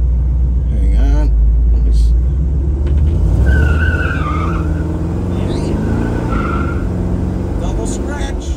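A 1966 Chevrolet Chevelle accelerating hard, its tires scratching twice in quick succession with a high squeal over a loud, steady engine rumble.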